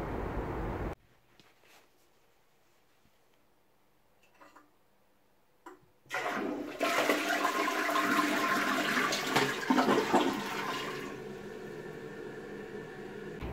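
Toilet flush in a Toronto home: a faint ticking in near silence, then a sudden loud rush of water swirling and draining for several seconds, tapering to a refill hiss.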